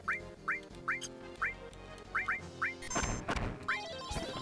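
A large chicken-like bird creature in Final Fantasy 7 gives a string of short, repeated squawking cries, evenly spaced and fairly quiet, with game music and effects sounding underneath.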